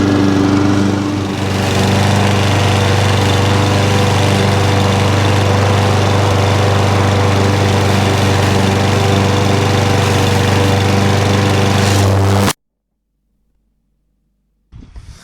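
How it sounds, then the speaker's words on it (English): A self-propelled lawn mower runs loud and close with a steady droning engine for about twelve seconds, then cuts off abruptly into silence. "it certainly helps if you've got an assist mower like this one"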